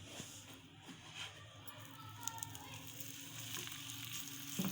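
Makki roti dough cooks on a hot tawa with a faint, low steady sizzle. A few soft clicks and light background noise sit around it.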